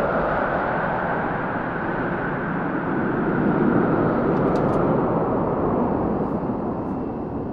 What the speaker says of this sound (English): There go the Blue Angels.